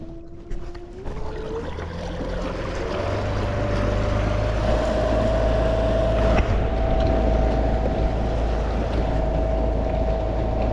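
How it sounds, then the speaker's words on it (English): A Newport electric outboard motor pushes a small boat at maximum speed, its steady whine rising in pitch as it spools up, then holding a constant tone over wind and water rush. "I want to go ahead and hit it up, hit the maximum speed, and I want you to hear the motor."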